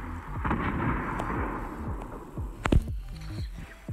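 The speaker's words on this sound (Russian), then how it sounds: "Нифига себе, ракета летит." Explosion of a rocket in the Fortnite battle royale video game: dense rumbling game-action noise with a sharp loud blast near the end, amid scattered impacts and bursts.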